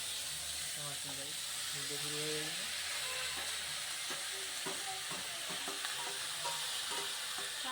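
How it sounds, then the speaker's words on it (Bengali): Papad fries in hot oil with a soft, continuous hiss and sizzle in a home kitchen, heard faintly with a voice speaking briefly near the start and small crackles scattered throughout. "পাপড় ভাজা চলছে"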